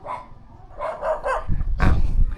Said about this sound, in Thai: โอ้หมาเห่าเต็มเลย